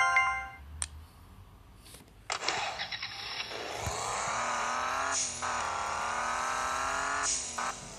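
A car in a flight simulator video game sounds a few short chimes, then its engine starts and settles into a steady hum that rises and holds, with no speech over it.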